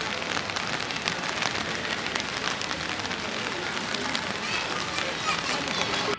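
Steady rain falls outside an arcade in Japan, a dense continuous hiss of drops on hard surfaces with an even level throughout and no voices.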